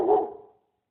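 A single dog bark, a short, full woof close by that fades out within half a second, heard alone.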